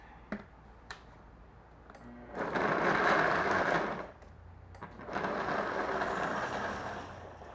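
A blender whirs loudly through two bursts, each about two seconds long, blending a chocolate blueberry smoothie made with almond milk, with clicks and taps around the bursts.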